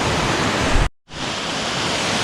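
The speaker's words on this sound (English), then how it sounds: "And here we are right close to the little waterfall." Small waterfall on a river on Vancouver Island, a loud, dense, close rush of falling water that cuts out abruptly for a moment before resuming.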